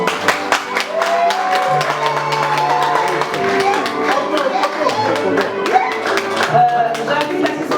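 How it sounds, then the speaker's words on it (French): Applause at a civil wedding ceremony, a crowd clapping steadily over a bed of music, with many hands making a dense, moderately loud patter throughout. "Second applaudissement"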